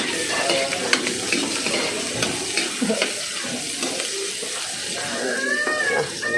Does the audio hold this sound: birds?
no